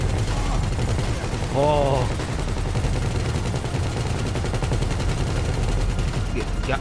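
Rapid gunfire in the video game Grand Theft Auto V, continuous dense automatic bursts crackling steadily throughout, loud and close, with a brief exclamation from a player over the shooting.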